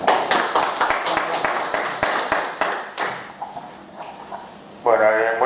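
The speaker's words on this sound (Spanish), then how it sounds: "un aplauso para él" Audience clapping for a speaker at a retro computing talk, scattered sharp claps that thin out and fade over several seconds, followed by a voice starting to speak near the end.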